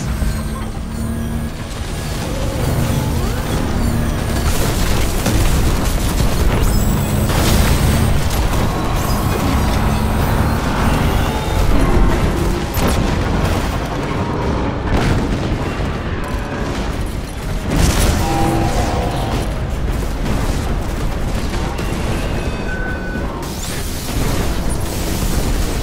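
Cannons fire in the Destiny video game against the Fallen in a dense, continuous battle din, with booming blasts and rumbling explosions layered loudly throughout without a clear break.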